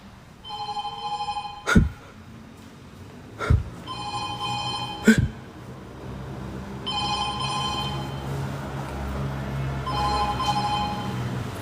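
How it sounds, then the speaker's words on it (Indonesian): A telephone in a haunted clinic rings in bursts of bright electronic trills separated by pauses, moderately loud, with sharp thumps and room noise between rings. "Kalian dengar ada suara telepon?"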